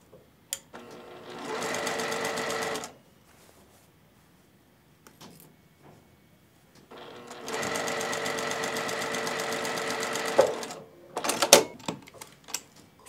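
Sewing machine stitching a straight quarter-inch seam on quilt binding at a short stitch length, running in two steady whirring bursts with a quiet pause between them, close and loud, with small clicks and handling noises at the end.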